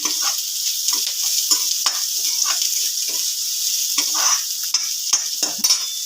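Onions sizzle steadily in a pan over a low gas flame, with occasional stirring scrapes, close up and continuous.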